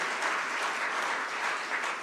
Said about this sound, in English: Round of applause for everyone who's here.